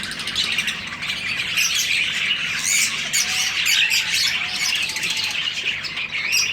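Female lovebirds in a cage begging food from the males, a dense, continuous chorus of shrill squawks and chirps close by and fairly loud, with no talking.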